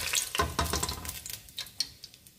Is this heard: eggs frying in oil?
yes